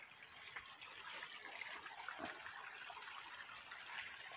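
Rain-swollen creek flowing full of water during ongoing rain at midday, a steady broadband rushing and splashing that stays even and moderately loud throughout, with no talking.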